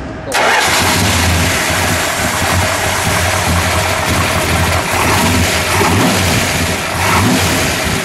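A 1970 Plymouth Road Runner Superbird's 440 V8 cranks briefly and fires, then settles into a loud, rough, lumpy idle with occasional blips of throttle, heard up close without speech.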